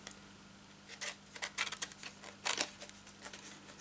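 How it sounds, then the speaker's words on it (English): Scissors snip through a piece of card during handmade shadow box birthday card making: a few quiet, crisp cutting clicks in short clusters over a low steady hum. "then with a pair of scissors just cut this piece off."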